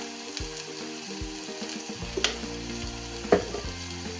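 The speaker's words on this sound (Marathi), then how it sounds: "सगळं एकत्र छान असं भाजून घेते." Homemade masala roasts in a pan for a Maharashtrian brinjal and field bean dry curry, a bright steady sizzle with occasional utensil clinks over quiet background music.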